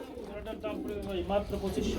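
Low, soft Bombay pigeon coos rolling under someone talking nearby at a pigeon sale, with a murmur of background activity.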